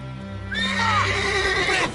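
A horse neighs loudly and close in The Witcher 3, a long shrill whinny rising and falling over steady game ambience and faint hoofbeats, standing alone without talk.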